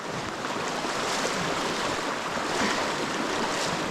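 Creek water rushing and splashing steadily as someone wades across, a dense, close, continuous wash of flowing water with no voices.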